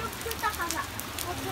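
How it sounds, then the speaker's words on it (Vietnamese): Heavy rain pours down outside a homestay in Đồng Văn, a dense, steady hiss of drops hitting surfaces with no pauses. "Hiện tại thì trời mưa rất lớn."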